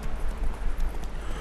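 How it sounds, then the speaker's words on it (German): Horse hooves clip-clop at a steady trotting rhythm as a horse is ridden in the video game The Witcher 3, a short, moderately loud run of hoofbeats with no talk. "Auf dem Pferd sind wir immerhin ein bisschen schneller,"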